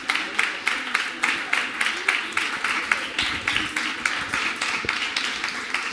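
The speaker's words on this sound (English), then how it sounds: "Big applause to the team." Crowd applause for a kids' team at a playground stage competition, rhythmic clapping with regular, distinct beats throughout, like a group clapping in time, with voices mixed underneath.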